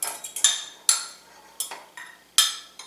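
A fork stirring and scraping a bowl of pizza dough, a series of sharp metallic clinks and taps against the bowl in irregular rhythm, close up with no talking.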